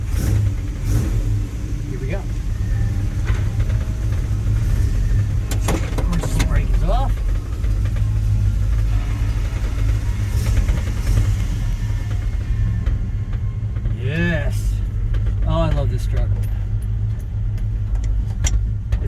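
A 1978 K10 truck, short and bouncy on big tires, fitted with an aluminum radiator, drives along with a steady mid-pitched engine hum and occasional revving, with people talking over it throughout.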